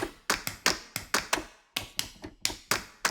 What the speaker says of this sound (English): Chest hits,